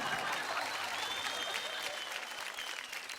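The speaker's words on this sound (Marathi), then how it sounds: "जोरदार टाळ्या मास्टर देवेंद्रसाठी प्लीज." Loud, sustained applause and cheering from the studio audience of a Marathi televised dance competition, a dense steady wash of clapping throughout.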